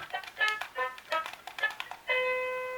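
A series of short electronic beeps and tones from toy keyboard buttons pressed one after another, ending with a longer sustained chime.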